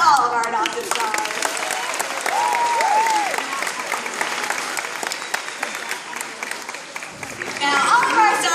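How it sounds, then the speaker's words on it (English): Audience applause at a Sea World animal show called Pets Ahoy, honoring adopted shelter animal stars; a large crowd claps steadily throughout, with cheering and a voice heard over it. "So how about one big round of applause for all of our adopted stars?"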